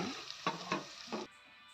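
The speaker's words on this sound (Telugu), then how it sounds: "కోసుకున్నాం కదండి అవి వేసేసి దోరగా వేపించాలండి" Onions and green chilies fry in a pan for a prawn curry, giving a brief close sizzle with a few stirring scrapes before the sound cuts off abruptly.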